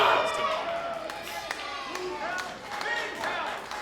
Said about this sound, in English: These fans showing their approval, their loyalty to Jimmy House